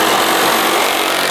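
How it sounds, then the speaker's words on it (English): A jigsaw cuts through wood for a rustic outhouse build, a loud, close, continuous buzzing rasp with no pauses and no talk. "You're gonna cut this about this much off, all the way down with the jigsaw."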